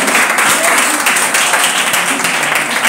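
A church congregation applauds in praise of the Lord, a loud, dense, steady wash of clapping from many hands close by, with voices mingled in.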